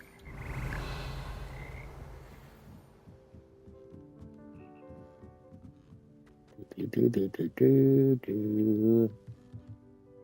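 Frogs of the Frog Choir in the video game Hogwarts Legacy, sounding as a burst of loud, tonal croaks late on, after quieter low rumbling and a faint murmur of game sound.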